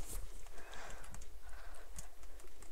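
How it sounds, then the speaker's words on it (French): Horses clip-clop nearby with soft irregular hoof thuds, faint and somewhat muffled under outdoor background noise, with no clear neighing. "Il y a des chevaux là-bas."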